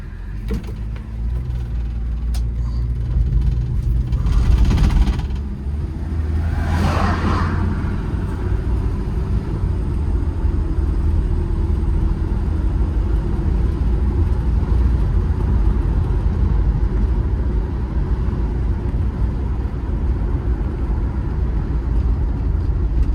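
A 1968 Pontiac GTO 400 convertible with a 4-speed on a test drive, continuous loud engine and road rumble throughout, with a couple of brief louder surges early on and no talk.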